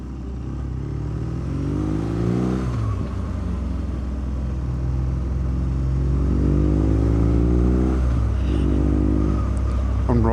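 BMW R nineT Urban GS motorcycle ridden on winding Lake District roads, its engine droning steadily up close and rising through gears with repeated revving sweeps, mixed with wind rumble.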